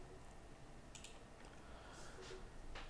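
Sparse keystrokes on a computer keyboard during software work, a few quiet, scattered clicks over a faint steady room hum.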